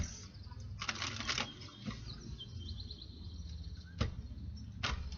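A Kipper card deck is shuffled in several quick riffling bursts of crisp, papery card flutter, close and clear, separated by short pauses.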